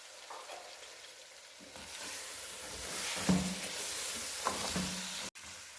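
Two large tomatoes dropped into spiced chicken biryani masala set off a rising, hissing sizzle, with occasional stirring scrapes over steady close frying.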